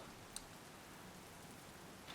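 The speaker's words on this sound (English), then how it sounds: "now it's a torrential downpour outside" Steady, dense hiss of heavy rain pouring down, constant and even throughout with no voices.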